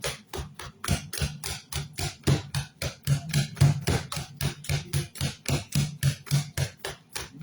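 Bananas being mashed by hand for banana fritters, a quick run of soft, regular squashing thumps and taps at close range, steady and rhythmic with no voices.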